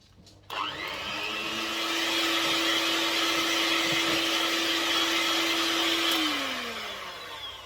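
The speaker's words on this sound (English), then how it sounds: "whisk that until it's smooth" Electric whisk beating a cheesecake mixture in a bowl, a steady loud whirring motor hum that starts abruptly, holds for about six seconds, then winds down, with no talking.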